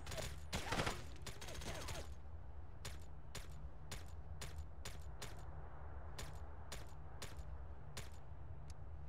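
Gunfire in the video game SOCOM U.S. Navy SEALs Combined Assault on a snowy map: a brief rapid burst followed by about a dozen evenly spaced sharp single shots, fairly faint over a steady background hum, with no talking.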